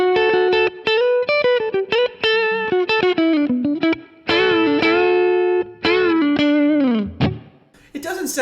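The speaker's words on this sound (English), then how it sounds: "And single coil sounds like this." A PRS S2 Standard 22 electric guitar with its Seymour Duncan 59 humbucker split to single coil, brighter and thinner in tone, plays a quick run of picked notes and a few chords, lightly distorted.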